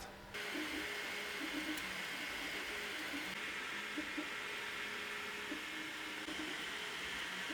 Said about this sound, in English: Start print. 3D printer is ready.